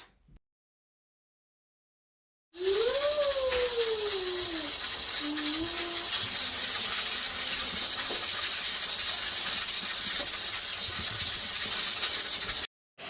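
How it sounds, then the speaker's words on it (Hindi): After a couple of seconds of silence, a pressure cooker boiling sweet potatoes bursts into a loud, steady steam hiss with a wavering whistle tone at the start. "जब प्रेशर की विसल बजने लगी है"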